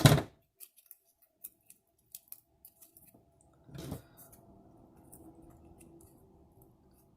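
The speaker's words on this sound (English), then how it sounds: "I think I'm going to use my scissors for this" A few sharp little snips and clicks as scissors cut wire, spaced out and quiet, followed by a louder crunchy cut and a soft rustling handling noise.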